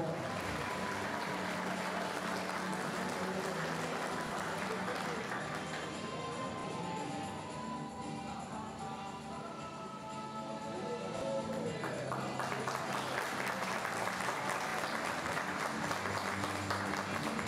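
An audience applauds at a sports memorial award ceremony, a dense, steady wash of clapping that dips briefly in the middle and then swells again, with some voices mixed in.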